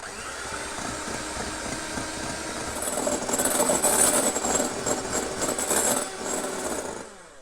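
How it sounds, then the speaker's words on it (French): An electric mixer whips egg whites with a pinch of salt for a chocolate Bûche de Noël sponge, a steady mechanical whir that swells louder midway and then cuts off. "Et puis on va venir monter ça au batteur."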